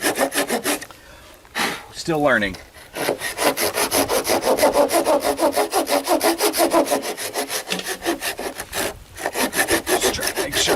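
A hand saw cuts through a wooden header joist on an off-grid cabin build, with steady rapid rasping strokes that run loud and close for most of the clip after a brief spoken remark and a few slower starting strokes.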